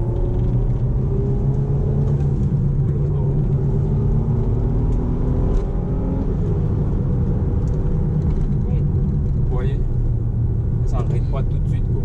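Infiniti FX35 accelerating, heard from the cabin as a steady low engine rumble and road drone with a rising tone, while someone talks over it throughout.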